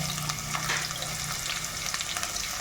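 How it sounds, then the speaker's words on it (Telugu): Onions fry in hot oil with a bay leaf and marathi moggu for a country chicken curry, giving a steady, close sizzle with occasional stirring scrapes and no talk. "దోరగా వేయించుకోవాలి."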